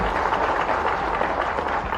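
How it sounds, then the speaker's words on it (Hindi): A crowd at a public political event in Bhopal applauds loudly, a dense, steady wash of clapping that continues without a break. "जोरदार ताली बजाओ माननीय मोदी जी के लिए"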